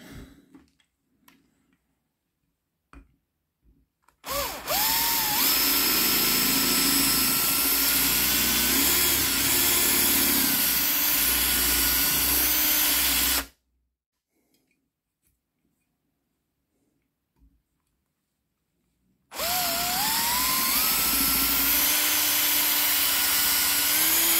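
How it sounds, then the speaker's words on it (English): Two long bursts of a high-pitched power drill whining steadily as it drills out rivets on a Matchbox K12 Foden breakdown truck model, each running several seconds, separated by a stretch of near silence. "we've got two rivets here that we're going to have to drill"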